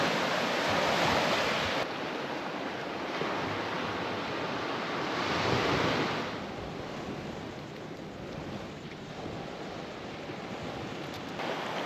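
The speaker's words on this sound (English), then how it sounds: "Just got a few rolling waves coming in, but pretty well glass calm besides those little breakers." Small rolling waves breaking gently on a calm shore in East Arnhem Land, near Nhulunbuy, a steady washing hiss that swells and fades slightly, with a little wind noise over the microphone.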